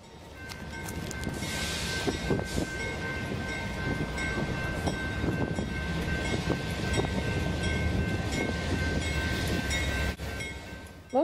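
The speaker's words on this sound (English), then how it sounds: "Here we see a northbound grain rounding the curve into Hobson Yard." A BNSF northbound grain train rounds a curve into Hobson Yard in Lincoln, Nebraska, its wagons rumbling and squealing steadily with clattering wheel noise throughout, moderately near, with a thin sustained flange whine.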